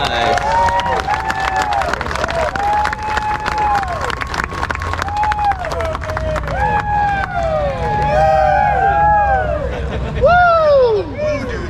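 A crowd at a drag strip awards presentation cheers and whoops across the whole stretch, with someone shouting excitedly close by over the steady roar of the spectators.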